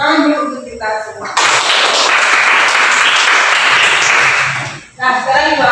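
A classroom of students applauds together in a sustained burst of clapping lasting about three and a half seconds, with a teacher talking before and after it.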